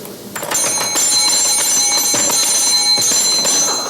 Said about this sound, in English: Why did you ring that bell?